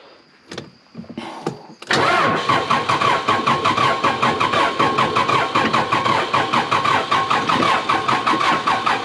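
A low-battery backhoe engine on a jump box cranks over after a few clicks and brief starter attempts, then settles into a loud, rhythmic turning-over chug that repeats steadily throughout.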